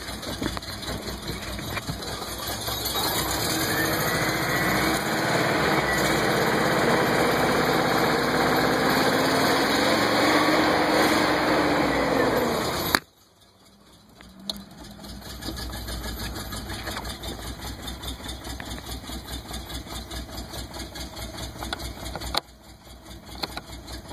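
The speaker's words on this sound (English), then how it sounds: "Right now it's barely idling because it's cold." A cold 1985 Subaru GL 4WD wagon engine idles roughly with a steady drone, then briefly cuts out and returns to an uneven, stumbling idle.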